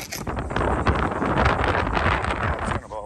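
Strong wind on a low-slope roof buffets the microphone with a loud, continuous low roar and rumble that gusts unevenly before easing slightly at the end.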